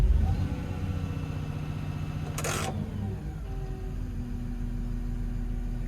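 A vehicle engine idles steadily and evenly at close range, a low continuous hum with a brief click partway through and no stumbling or misfire.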